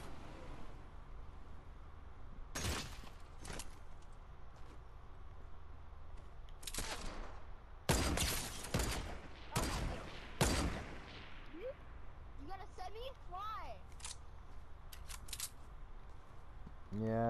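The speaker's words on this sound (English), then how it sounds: "Yeah, he's got a shotgun." Shotgun blasts from a Fortnite creative minigame, several sharp, loud bursts spread out irregularly, mixed with other game effects and occasional talk.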